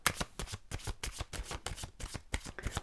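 Tarot cards shuffled and handled during a reading, a steady run of soft riffling bursts and flicks close up, with no talking.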